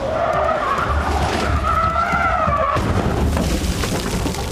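A Formula E race car passes at full speed during free practice at the Buenos Aires ePrix, its electric whine rising and falling, then its rear wheels lock into a loud, harsh tire skid before an abrupt shift into broader rushing noise.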